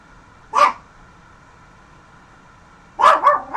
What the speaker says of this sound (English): The dog next door is out.